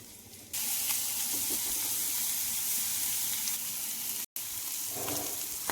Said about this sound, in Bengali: সবজি এবং ডালগুলো একসঙ্গে মিশিয়ে নিচ্ছি।